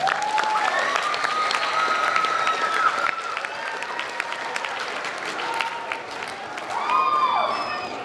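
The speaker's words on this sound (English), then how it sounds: "So I'd like to give them a big round of applause." Banquet audience at a pee wee football awards ceremony breaks into sustained applause, steady and dense for about eight seconds with a few cheers mixed in, swelling again near the end.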